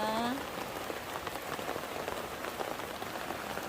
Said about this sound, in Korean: 빗소리 들으며 연나바이솔 구경합니다.